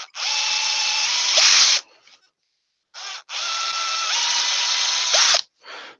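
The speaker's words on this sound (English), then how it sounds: "Drill the hole" A power drill bores a hole in wood while turning small farm-animal toys, running in two long sustained whines separated by a pause, with brief bursts of the motor at the end of each run.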